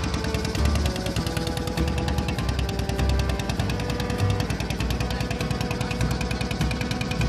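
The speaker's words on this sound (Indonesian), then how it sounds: "Lihat teman-teman, kipas kapalnya sudah hidup." A toy RC fishing boat's small propeller motor runs continuously, a fast buzzing, rattling whir with rapid even clicks, loud and close throughout with no voices.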